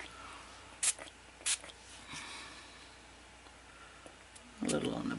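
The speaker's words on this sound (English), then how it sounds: "Let's do a little spray of some pink on these flowers." Pink paint is sprayed onto a mixed media botanical canvas in short hissing bursts, two brief sprays early on and a longer one at the end, with quiet handling noise between.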